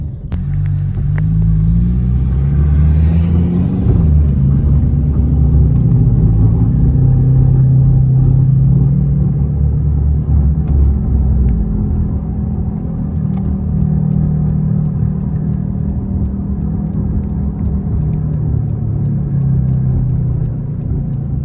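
Steady low engine rumble and road noise come from inside a car driving along to a Wegmans store, loud and unbroken with slight shifts in engine tone.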